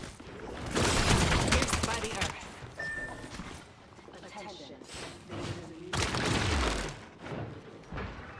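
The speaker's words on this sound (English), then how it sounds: "You're getting shot." Rapid gunfire bursts in a first-person shooter video game, loud repeated volleys and booms mixed with game voice callouts and effects.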